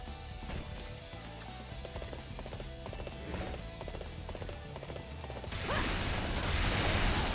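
In Dynasty Warriors 8: Xtreme Legends, rhythmic horse hoofbeats clop over game music and mechanical clatter, then a louder burst of crashing noise takes over near the end.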